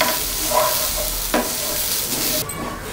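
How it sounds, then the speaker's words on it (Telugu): Grated coconut roasting in a pan, a steady dry sizzle with a spatula stirring and scraping through it, close and continuous. "ప్యాన్లో కొబ్బరి తురుము వేసి పచ్చిదనం పోయేంత వరకు వేయించుకోవాలి"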